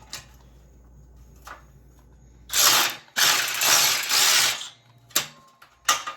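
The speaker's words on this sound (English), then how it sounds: "We're just going to use this stubby impact here." A stubby impact wrench tightening bolts on an undermount trailer ramp, firing in loud, close rattling bursts of about half a second to a second, with short pauses between them and a couple of shorter hits near the end.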